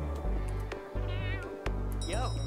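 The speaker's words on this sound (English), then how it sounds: "it's literally a little ghost kitty!" A ghost kitty in the video game Cat Café Manager meows a few times in short, close cries over steady game background music.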